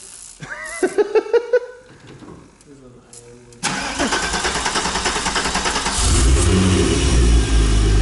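A VW Golf 3 VR6 Turbo making about 500 hp cranks, catches and fires into a loud, rough idle with rhythmic pulsing, then revs harder near the end, while people talk over it close by.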